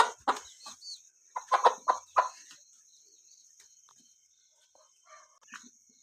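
Chickens clucking close by in a series of short bursts, a few grouped calls early on and then sparser clucks, with a steady faint insect-like buzz in the background.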